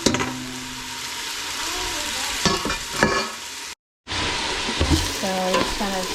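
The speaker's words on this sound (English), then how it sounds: "So just kind of soften the onions and peppers. Let them saute." Onions and peppers sautéing in olive oil in a big pot, a steady sizzle with several scraping stirs and utensil clinks, a short gap midway, then more sizzling and a few clinks.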